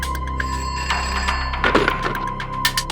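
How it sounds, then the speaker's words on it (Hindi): A telephone rings at a police station desk in Borivali, with a ringing tone repeating over a busy room full of background clatter and voices. "जब मंगत ने आपको फोन किया था"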